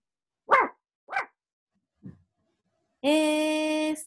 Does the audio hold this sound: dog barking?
yes